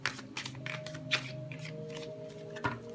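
A tarot deck shuffled by hand, close and quiet, in a string of soft papery riffles and flutters repeating in quick bursts.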